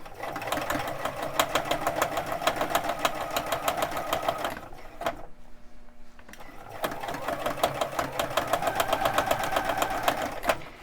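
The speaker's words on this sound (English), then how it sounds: "Then we're going to pull the elastic as we're sewing." Sewing machine stitching elastic onto a reusable fabric doll diaper, a steady rapid mechanical whir of needle strokes that runs loud and continuous, stops briefly near the middle, then resumes at the same fast rhythm.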